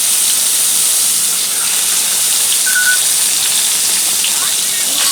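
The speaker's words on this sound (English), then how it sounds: "Now you don't want to disturb these while they're frying" A loud, steady sizzle of scallops searing in hot oil, a continuous bright hiss with no pauses.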